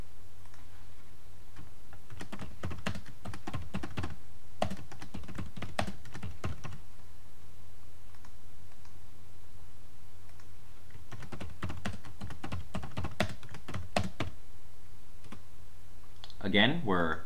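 Computer mouse clicks while working in BaseCamp software, sharp close clicks in bursts around two to seven seconds and again near eleven to fourteen seconds, quiet between, with a short voice at the end.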